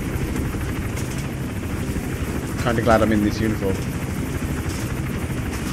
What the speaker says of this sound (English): What the hell is that helicopter doing?